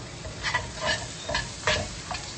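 Mint rice being stirred and mixed in a hot pan, with a run of brisk scraping strokes over a soft, steady sizzle.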